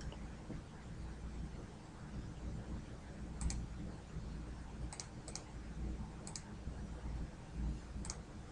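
Sparse mouse clicks on a computer during a network simulation, about six sharp, faint ticks scattered over a steady low background hum, each click isolated and short.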